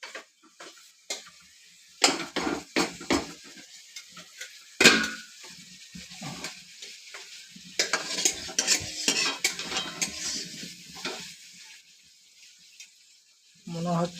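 Taro curry with fish head being stirred in a pan: a spoon scrapes and clicks against the metal in irregular bursts over a faint simmering sizzle, with pauses between strokes.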